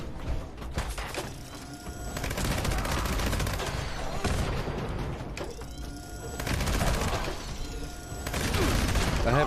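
Gunfire in the video game Fallout 76, with loud bursts of rapid shots separated by brief quieter gaps and mechanical clicks, repeating across roughly ten seconds.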